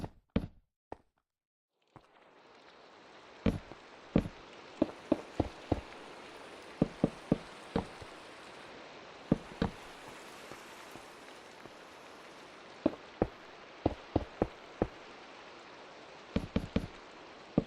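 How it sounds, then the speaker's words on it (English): Rain falls in Minecraft as a soft, continuous hiss that starts abruptly and holds steady, broken by scattered sharp clicks and taps on top. "Now that sound is what's actually like super relaxing, like Minecraft rain."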